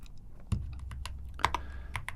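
Computer keys pressed in a quick irregular series of crisp clicks, close and fairly quiet, as a keyboard shortcut is entered, with no voices.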